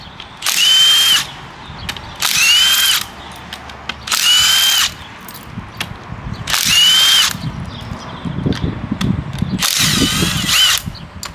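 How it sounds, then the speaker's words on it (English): A power tool removes the rear differential housing, its bolts spun out in five loud, close whirring bursts, each about a second long, with metallic clatter and handling noise between them. No one speaks. "Alright, now to pull off the rear diff housing."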